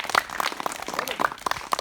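Children clap at a cow shelter, giving a short burst of uneven, scattered claps at close to moderate range that lasts under two seconds.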